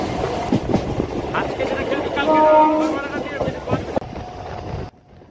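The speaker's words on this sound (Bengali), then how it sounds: "আমাদের ট্রেন আছে এখন 10:40 শিয়ালদা কৃষ্ণনগর সিটি লোকাল" Sealdah–Krishnanagar City local train, a loud rumbling rail roar with clattering wheels and wind buffeting the microphone, swelling midway then dropping off sharply before the end.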